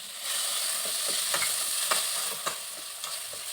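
Tomato goes into frying onions with turmeric and coriander in a pan, giving a steady close sizzle broken by soft scraping stirs of a spoon.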